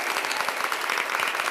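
Audience applause at a Hindi poetry recital (kavi sammelan): a dense, steady wash of many hands clapping, fairly loud and continuous throughout, with no clear voices standing out.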